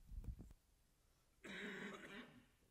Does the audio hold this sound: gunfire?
no